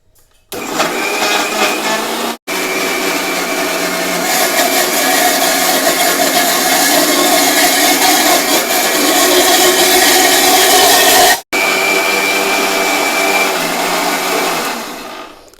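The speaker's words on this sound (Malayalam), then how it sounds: "അപ്പം നമ്മൾ ഇതൊന്ന് നല്ലോണം അരച്ചെടുക്കാം" A mixer grinder whirs steadily while blending milk and Oreo cookies into a shake, a loud continuous motor drone running nearly the whole time and cutting out briefly twice before winding down.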